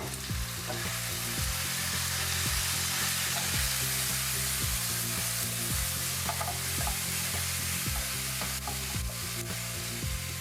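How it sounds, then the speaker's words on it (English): Carrot strips and bell peppers sizzle and crackle steadily in a hot pan, with a rhythmic scraping of a spatula stirring them every second or so, loud and close. "add the carrot strips and the cut bell peppers and keep stir frying."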